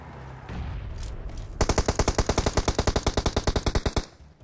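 Automatic gunfire in a mobile battle-royale shooter game: a rapid, evenly spaced burst of about twenty loud, close shots lasting over two seconds, following quieter background game noise.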